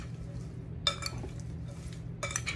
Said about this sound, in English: I'm gonna go ahead and stir that.